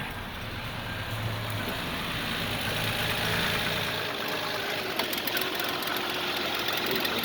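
A car engine idles steadily up close, with a continuous rhythmic ticking and whirring from a suspected bad tensioner pulley in the belt area, no talking over it.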